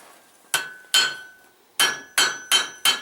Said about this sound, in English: Now there's a magnet on this particular anvil. What it does is dampen the tone to the anvil